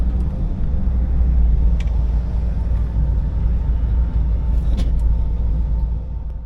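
A car turns into a parking lot, its steady low engine and road rumble heard from inside the cabin, with a few faint clicks over the drone.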